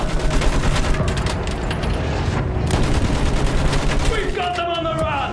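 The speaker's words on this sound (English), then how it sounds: "Use that machine gun! Mow them down!" Battlefield 1 machine gun fire in a World War I trench assault rattles out in rapid, continuous bursts over a loud battle din, while voices shout over the gunfire.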